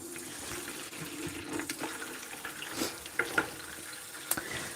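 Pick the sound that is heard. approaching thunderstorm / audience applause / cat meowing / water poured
water poured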